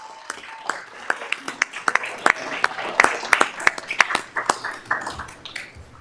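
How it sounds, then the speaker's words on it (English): At a school district board meeting, a sparse audience claps for school principals, with scattered individual hand claps rising into a brief round before fading, over low room murmur. "Let's show our appreciation with a round of applause."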